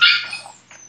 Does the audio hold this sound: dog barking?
yes